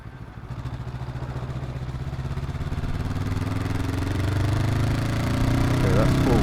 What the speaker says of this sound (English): that's full throttle in 4th gear